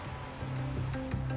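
Heavy sea surf breaks on a beach on South Africa's Wild Coast, a continuous close roar of rushing water with faint tonal hum underneath and no voices.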